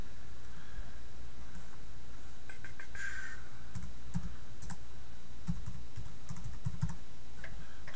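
Typing on a computer keyboard, a steady patter of close key clicks with uneven rhythm over a constant background hum.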